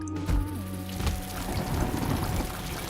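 Rain pouring in the downpour area of the Mewgenics video game, a dense continuous wash of falling water with a low rumble and a few louder thumps near the start, without talk.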